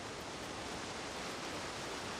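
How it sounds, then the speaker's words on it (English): A waterfall in the video game The Last of Us Part I rushes as a steady, dense wash of broadband noise, close and constant with no other sounds. "I'm so happy I found a waterfall!"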